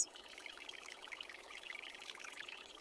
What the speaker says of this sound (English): I water the plants.